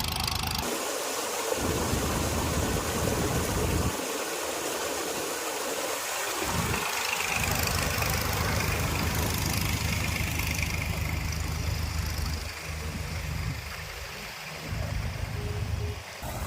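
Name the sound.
dewatering pump motors running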